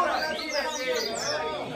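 A caged papa-capim songbird sings at a bird-singing contest with many cages, a continuous stream of bright chirps and warbles sounding close, while people talk and chatter around it.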